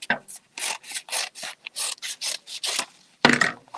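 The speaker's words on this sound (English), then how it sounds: "You're going to cut the bottom so that it's even" Scissors snipping the bottom edge of a craft paper cone for a tree, a quick run of about a dozen close, crisp rasping cuts in steady rhythm, with a brief pause before a final louder snip.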